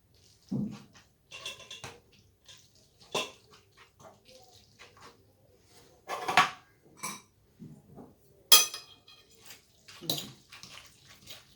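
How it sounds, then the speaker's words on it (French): Tagliatelle is tossed with smoked salmon, crème fraîche and mustard in a pan, producing intermittent wet squelches and soft scraping bursts separated by short pauses, close and moderately loud. "Et on va mélanger l'ensemble"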